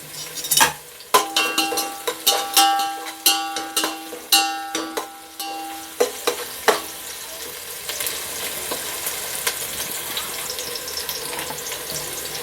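Chopped green chillies hitting hot oil in a pan for Dindigul-style mutton biryani, a series of sharp crackling pops and spits in the first half settling into a steady, bright sizzle close by.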